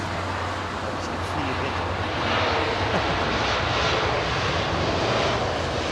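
Boeing 767 being pushed back at Heathrow Airport, a continuous jet engine whine and rumble at moderate distance, steady with a slight swell, under faint voices.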